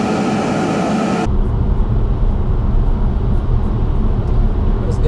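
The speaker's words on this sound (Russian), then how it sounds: "Замеряем шумоизоляцию. Скорость 80 км в час." Inside a 2017 Kia Soul cruising at 80 km/h, a steady low road and tire rumble fills the cabin after a short louder rush at the start, constant and even.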